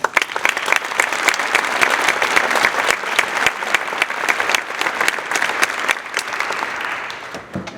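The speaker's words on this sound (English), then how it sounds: "If you could give them a round of applause." Dense, lively applause fills a school auditorium during an honor society induction ceremony, many hands clapping steadily and loudly throughout before easing off slightly at the end.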